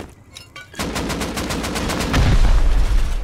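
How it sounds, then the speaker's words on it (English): Rocket launcher fired in a video game base raid: a sharp launch burst followed by a rapid rattling stream of impacts and a heavy low boom near the end, loud and close. "Shot a rocket."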